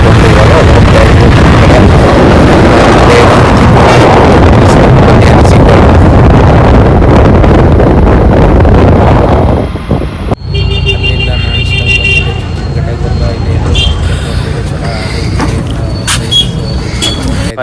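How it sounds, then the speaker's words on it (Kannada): Loud, steady rush of engine and wind from a motorbike riding through a crowded exhibition fair area, with a dense drone for most of the ride that thins midway into lighter traffic and crowd noise. "ಬೈಕಲ್ಲಿ ಹಾಗೆ ನೋಡಿಕೊಂಡು ಇವಾಗ ಹೋಗ್ತಾ ಇದ್ದೀವಿ"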